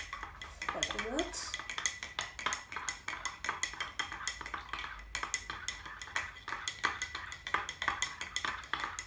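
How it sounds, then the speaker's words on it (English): A spoon stirs a drink in a glass, giving a run of quick clinks and scrapes that come in irregular bursts over a soft background, with faint voices at times. "I'm just gonna keep stirring and stirring and stirring until it dissolves and becomes one with each other"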